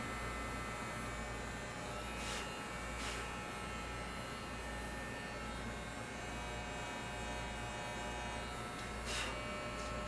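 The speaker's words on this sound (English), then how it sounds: "I was hoping these newer clippers wouldn't pose the problem the other ones did." Electric dog clippers buzz steadily through a fox cut of a dog's fur, a close, continuous mechanical hum with faint brief rasps, no talking.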